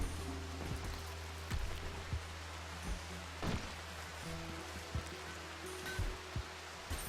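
Steady rain patters down in the video game RimWorld, a soft, even hiss with scattered light drops and faint game sounds, no one talking.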